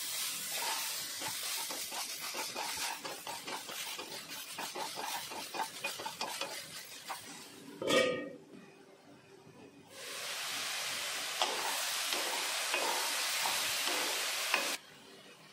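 Four large tomato pieces sizzle and are stirred in a hot pan, with scraping strokes and a steady frying hiss. Halfway through there is a brief thump and a quieter pause, then the loud sizzle returns.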